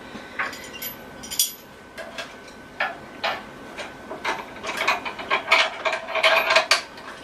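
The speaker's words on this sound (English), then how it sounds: "Screws on here really easily." Quiet metallic clicking and scraping as a threaded coffee attachment is twisted onto a Jetboil Genesis camp stove, irregular small ticks growing busier toward the end, close and faint.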